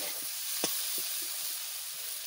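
Eggs fry in spiced masala in a wok, giving a steady close sizzle with a few soft stirring scrapes and pops.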